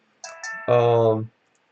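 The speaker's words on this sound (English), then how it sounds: "my phone went off" A phone ringtone goes off in short bursts: two brief high chirps and then a louder sustained electronic tone that stops abruptly, with nothing else audible around it.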